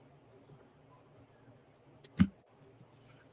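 A single short computer mouse click, close and fairly crisp, stands alone over a low background hum.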